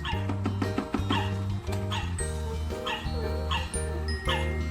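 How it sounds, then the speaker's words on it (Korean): A puppy yips and barks in short bursts close by, its calls sounding over a steady background tone. "멍멍하네 멍멍."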